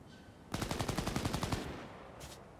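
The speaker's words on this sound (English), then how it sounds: "Can you guys stop firing?" Rapid automatic gunfire in Cyberpunk 2077, a close burst of about a dozen evenly spaced shots lasting around a second, followed by a brief softer burst after a pause.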